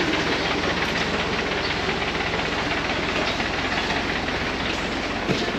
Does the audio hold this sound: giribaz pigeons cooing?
no